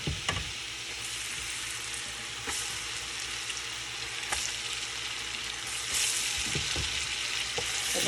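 Turkey wings fry in hot oil and butter in a pot with a steady, close sizzle and crackle, broken by occasional louder pops and stirring sounds, with no talking.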